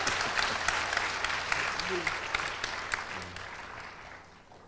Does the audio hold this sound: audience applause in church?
yes